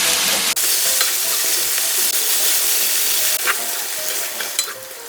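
Squid stir-fried over high heat in a pan for a Korean spicy squid dish, a loud continuous sizzle and hiss with scraping stirring noises throughout, no voices.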